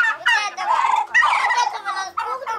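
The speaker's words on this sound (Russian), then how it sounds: "Индюки закукарекали на." Turkeys on a village farmyard give harsh, rooster-like crowing calls in several rapid bursts, loud and close, filling the whole stretch with strained, warbling cries.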